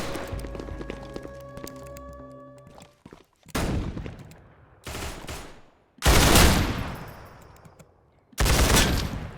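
Bursts of automatic rifle fire in a first-person shooter video game, four loud volleys of a few seconds each separated by short gaps, following music and game sounds at the start.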